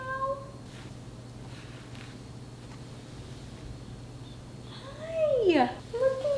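A couple of cats meow, a short cry at the start and a long, rising-and-falling yowl near the end, over quiet background hum.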